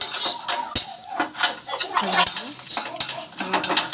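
A utensil stirs and scrapes tomato chutney in a metal pan over a medium flame, giving irregular clinks and knocks against the pan with a faint sizzle underneath.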